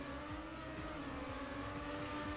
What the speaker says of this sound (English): I can hear the engine rev down.